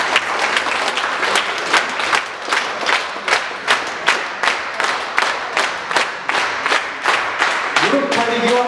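A concert crowd at a creative evening claps in steady rhythmic unison as performers gather on stage. The beats are loud and regular, and a voice comes in briefly at the very end.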